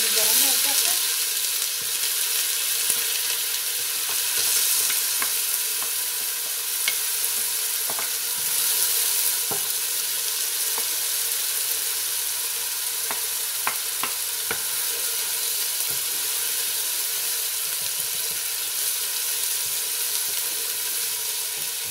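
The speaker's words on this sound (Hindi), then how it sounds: "प्याज डालेंगे, बिस्मिल्लाह। तेल गर्म हो गया है।" Onions sizzling in hot oil for mutton kofta curry, a loud, steady, close frying hiss throughout with occasional crackles and faint utensil taps.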